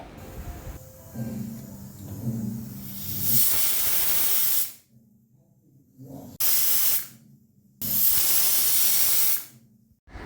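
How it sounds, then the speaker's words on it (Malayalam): A pressure cooker cooking lentils lets off loud, rushing bursts of steam hiss, stopping in between for quiet gaps; low background rumble runs underneath and nobody speaks. "കുക്കറിൽ വേവിച്ച് വിസിൽ വരട്ടെ"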